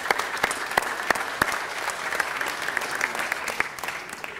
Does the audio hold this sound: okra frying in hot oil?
no